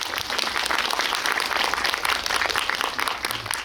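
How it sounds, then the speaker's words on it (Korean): Sustained audience applause for director Jo Hyun-chul at a post-screening Q&A at Indiespace, a thick, even patter of many hands clapping throughout. "우리 조현철 감독님께 박수 한번 부탁드릴게요"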